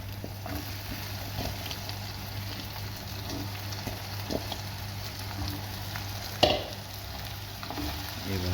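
Drumsticks of moringa, cleaned and cut, sautéed in a pan with dried chillies, giving a steady close sizzle with scraping stirs and a sharper clatter near the end; no talking.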